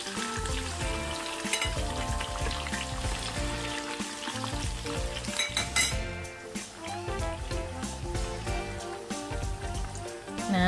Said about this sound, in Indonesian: tinggal digoreng ya teman-teman